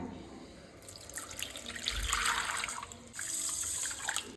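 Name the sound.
water poured over rice and fenugreek for soaking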